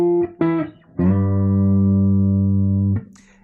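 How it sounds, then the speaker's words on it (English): Two quick plucked electric guitar octave notes on F, then the octave slides up to A and sustains loudly for about two seconds before cutting off. "So what I like to do is play octaves. So 2 Fs, slide up to my A there."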